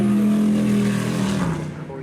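Mercedes Formula 1 1.6 litre turbocharged V6 in a supercar on the Goodwood Festival of Speed hillclimb, a loud steady high-pitched engine note that drops slightly in pitch as it passes, with a voice talking over it.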